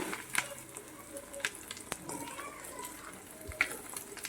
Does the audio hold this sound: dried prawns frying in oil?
yes